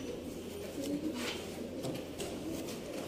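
Pigeons at a bird sale in Sialkot coo softly in a low, continuous murmur, with faint rustling and a few brief clicks over steady background hum.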